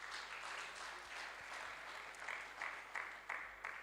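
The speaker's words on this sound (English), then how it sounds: "Can we clap for Dotun, please?" An audience at an architecture festival gives a sustained round of clapping, fairly faint and distant, with a few sharper claps standing out toward the end.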